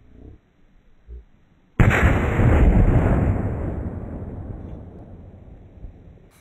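A plastic bottle charged with aluminium and hydrochloric acid bursts with a sudden loud bang, followed by a long roaring, rumbling decay that fades over several seconds; faint noises precede it.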